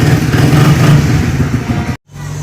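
A Suzuki R150 motorcycle engine idles steadily and loudly up close after starting, its low hum running on until a brief cutout near the end, then resuming more quietly.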